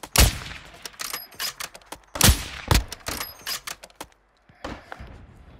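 Gunfire in Call of Duty: Modern Warfare II, a close sequence of sharp, loud shots in uneven bursts and single cracks, with brief gaps and one short silence before a few final shots.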